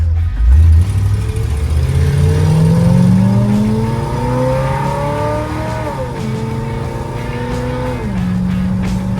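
A 1955 Chevy with a stock camshaft revs hard on a 1/8-mile drag run, climbing through the gears with rising pitch, shifting a couple of times, loud and close, with no talking.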